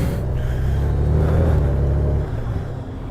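A 2020 Honda Gold Wing motorcycle with DCT in econ mode rides along, a loud steady low engine rumble with wind noise from a helmet-mounted camera, easing slightly toward the end.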